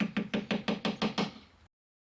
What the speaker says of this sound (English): Tap in remaining dowels using the same process described in Step 4.